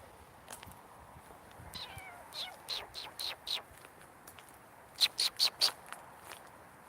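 A cat outdoors on a walk gives a string of short meows, first a few spaced calls and then a quick run of four close, clear cries, with faint rustling footsteps in the background.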